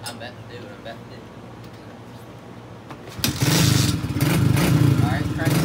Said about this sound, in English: Alright, crank it up fine first hit. It's bogging out.